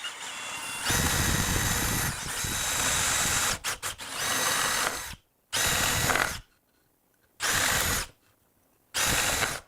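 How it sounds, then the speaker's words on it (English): A power drill bores holes in bursts: a long continuous whine, a few quick trigger blips, then three short separate runs with silent gaps between, loud and close. "let me keep drilling."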